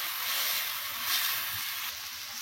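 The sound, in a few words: sautéing ingredients in a pan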